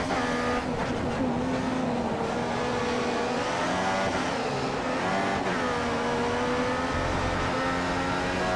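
Formula 1 cars race at the Spanish Grand Prix in F1 2015, a continuous high-pitched engine whine rising and falling with gear changes, loud and close, alone without talk.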